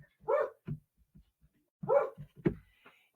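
A dog indoors gives two clusters of short barks, each followed by smaller yips, fairly near and alone with quiet gaps between.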